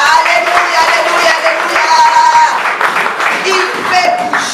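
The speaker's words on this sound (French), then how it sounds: "Est-ce qu'on peut applaudir notre Seigneur?" Congregation in a French-speaking church service applauding and praising, loud sustained clapping mixed with voices and shouts throughout.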